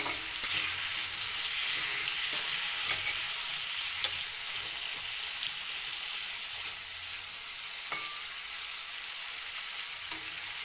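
Potato pieces fry in hot oil in a pan, a steady dense sizzle running throughout with a few faint clinks of a utensil, close and even, no talking.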